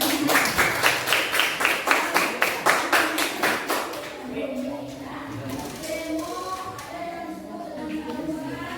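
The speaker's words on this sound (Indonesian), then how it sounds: "Oh, saudara Erwan, tepuk tangan." A small classroom group claps for a student coming to the front, about a dozen distinct rhythmic claps at first, then the clapping fades into shuffling and murmured talk.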